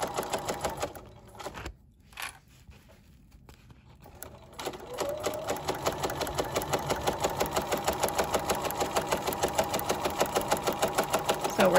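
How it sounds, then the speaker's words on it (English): A sewing machine stitches a straight seam along a drawstring bag, starting after a brief pause and settling into a steady, fast rhythmic whir close by with no talking. "So we're still sewing forward."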